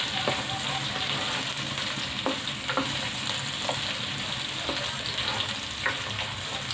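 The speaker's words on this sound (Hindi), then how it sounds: "प्याज को थोड़ी देर फ्राई होने देंगे" Thinly sliced onions frying in oil in a pan, a steady dense sizzle with occasional crackles and faint stirring scrapes, close and continuous.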